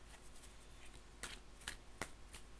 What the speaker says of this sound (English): Just give them a shuffle till it feels right.